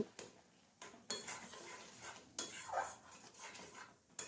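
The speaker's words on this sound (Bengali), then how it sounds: "এখন এই সমস্ত উপকরণ আবারও খুব ভালোভাবে একটু কষিয়ে নেব" A spoon scrapes and stirs mashed tomato with spices in a pan as it is sautéed, soft repeated scraping strokes with light clinks of metal, fairly faint and close.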